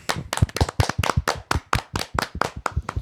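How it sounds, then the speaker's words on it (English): Sharp, close hand clapping from a small group, a quick irregular run of distinct loud claps with brief gaps, celebrating a college football team's rivalry win. "Round of applause to them."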